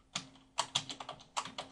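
Quick bursts of keystrokes on a computer keyboard, several close crisp clicks in an uneven rhythm with no voices.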